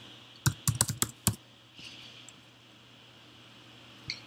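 A folder name being typed on a computer keyboard: a quick cluster of crisp key clicks, then a pause and a single later tap, close and clear over a quiet background.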